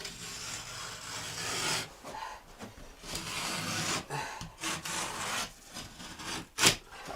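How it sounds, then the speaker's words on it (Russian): A utility knife scoring gypsum drywall board, rough scraping strokes in uneven bursts with short pauses between, close and fairly quiet, ending with a sharper snap-like burst. "Отмечаем, кладем с гипсокартоном, вообще легко работать. Он ломается, так, берем ножиком."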